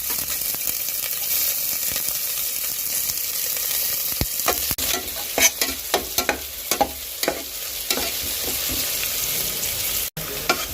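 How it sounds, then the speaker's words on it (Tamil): Steady sizzling of onions frying in hot ghee for paneer pulao, with occasional scraping and stirring clatter from a spoon in the pan. "வெங்காயம் நல்லா வதங்கிடுச்சு."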